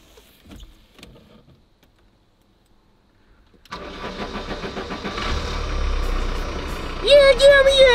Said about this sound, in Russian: Я поехал по деревне гонять, чтобы все видели, что у меня теперь машина есть.